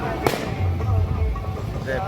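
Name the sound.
firecrackers bursting at a festival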